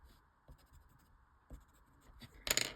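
A graphite pencil shades small areas of a tangle drawing on paper in short scratchy strokes: faint, close taps and rubs with a brief louder scribble at the end.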